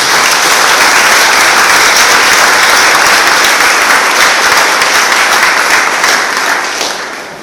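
A church congregation claps together in sustained, dense applause that stays loud and even throughout, tapering slightly at the very end.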